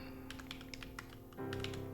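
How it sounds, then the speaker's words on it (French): Rapid keystrokes on a Makina Luna computer keyboard, crisp close clicks in an uneven run, with a steady hum underneath that thickens near the end. "Le Luna, le prochain clavier de Makina."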